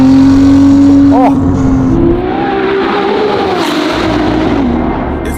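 A Ferrari 296 GTB with a Novitec exhaust revs loudly and close, the engine note rising briefly, then settling into a rough, rumbling drone that wavers up and down.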